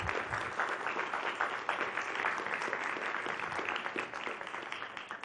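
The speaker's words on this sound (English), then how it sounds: "I think a round of applause to start us off is well earned." At the St. John's 2025 mayoral and deputy mayor debate, the audience gives a sustained round of clapping, a dense, even patter from a room of people heard at some distance, steady throughout.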